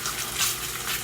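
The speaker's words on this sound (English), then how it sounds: "If you don't hear that sizzle, you're not making Dominican eggs" An egg fries in a pan, a steady hiss of bright crackling sizzle that holds throughout without pause; no voices.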